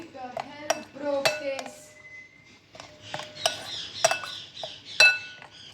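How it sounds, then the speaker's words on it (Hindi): Utensils clink and scrape against a bowl while chicken marinade with garlic powder is mixed, giving a series of sharp metallic taps in irregular bursts, close and moderately loud. "और अब हम सब चीज़ों को अच्छी तरह मिक्स कर लेंगे।"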